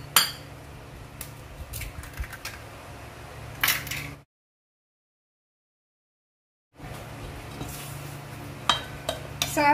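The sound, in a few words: cracking eggs into brownie batter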